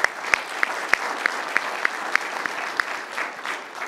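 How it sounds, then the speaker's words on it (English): An audience at Unreal Fest 2023, a film production talk, claps in a short burst of applause with a few sharp, distinct claps standing out over the steady patter, near and fairly loud. "So we'll give it a clap for Charlie."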